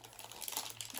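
Taped packaging of a beginner crochet kit being handled and pulled open, a brief, close, quiet stretch of crinkling and rustling with no talk.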